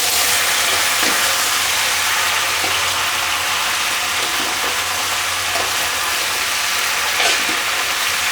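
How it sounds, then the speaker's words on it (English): Pork belly stir-frying in a wok gives a steady, dense sizzle with faint stirring scrapes, loud and continuous and with no voices. "Now she's gonna stir fry it. Stir fry all that flavor into the pork belly"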